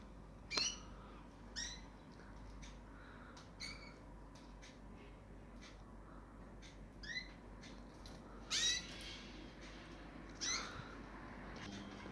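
Short, clipped calls of a female canary repeat at irregular intervals, bright and fairly faint over a steady background hiss.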